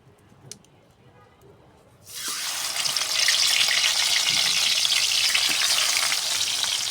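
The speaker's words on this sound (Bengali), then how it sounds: "বড়ি ভাজার পর আমি মাছ গেলে ভেজে নেব।" Fish dropped into hot oil in a home kitchen, a sudden loud sizzle bursting in after a quiet moment and then holding as a steady, dense crackle.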